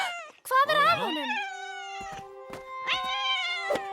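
A cartoon cat meows in an animated Smurfs episode, giving one loud, wavering, drawn-out cry followed by sustained tonal notes and short clicks, up close.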